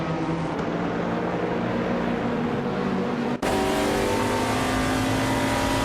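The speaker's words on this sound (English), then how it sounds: "Bozzo is driving a 2018 Peugeot 308 in the TCR class" A 2018 Peugeot 308 TCR race car drives with a steady, loud engine drone that cuts abruptly partway through and resumes at a higher, busier pitch, with no voices over it.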